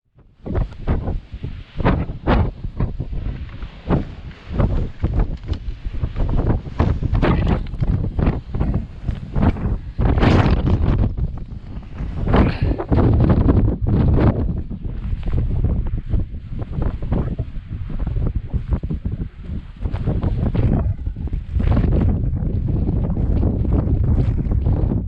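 Gale-force wind batters the summit of Fountains Fell in the Yorkshire Dales, roaring and buffeting the microphone in loud, continuous gusts with no speech.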